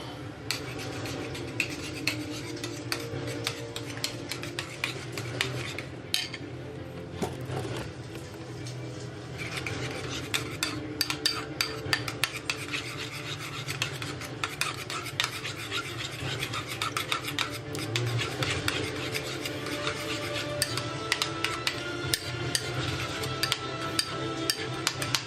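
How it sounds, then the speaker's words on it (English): Continuous scraping and clinking of a utensil against a container as a drink mixture with a heaping spoonful of mustard is stirred, steady and fairly quiet, with no talking. "And then you stir it up."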